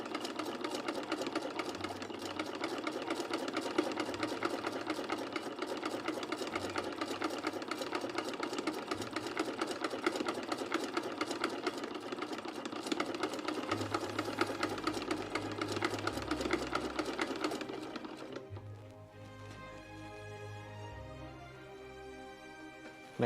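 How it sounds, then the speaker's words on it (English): Sewing machine running loud and close with a fast steady mechanical rattle and an odd knocking noise, then slowing to a lower, uneven whir near the end. "Feels like this machine is just making a different sound each time I'm using it."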